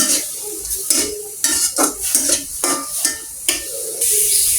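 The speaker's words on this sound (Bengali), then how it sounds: "তারপর এখানে কড়াইয়ে এটা সব শুকিয়ে নিব, তারপর আমি তেল দিব।" Onion water cooking down in a kadai for nihari, with repeated spoon scrapes and stirring strokes over a steady sizzle, close and fairly loud, no talk.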